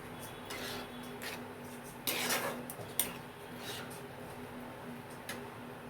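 Chutney ingredients being stirred and mixed in a pot, soft clinks and scrapes of a utensil against metal over a low background hum, fairly quiet, with a brief louder burst of scraping midway.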